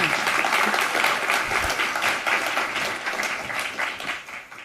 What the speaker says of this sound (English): And let's please have an applause for Zach.